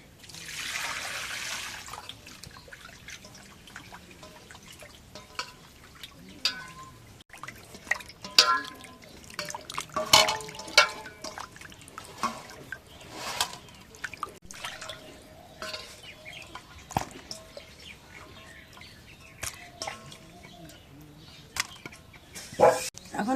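Pangasius fish pieces being washed by hand in water, with irregular drips, splashes and trickles rising and falling over a long stretch, some sharp clatters of hands and a bowl in between.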